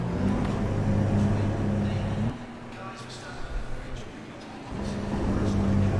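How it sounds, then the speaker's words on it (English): A race car's engine drones steadily in Assetto Corsa Competizione, then abruptly cuts out as it stalls, leaving a quieter rumble before the engine note returns near the end. "Oh, the car stalled out."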